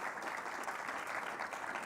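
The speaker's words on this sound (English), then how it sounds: "If we could give them a round of applause," Audience applause at an education summit, a steady even patter of many hands clapping throughout, moderately loud with no voices on top.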